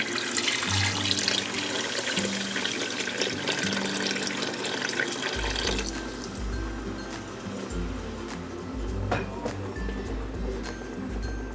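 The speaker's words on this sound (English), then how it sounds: "And we'll also be adding half a jug of water." Water pouring from a jug into a cooking pot of nihari, a steady splashing gush that starts bright and then deepens into a lower burbling as the pot fills, close by with no speech.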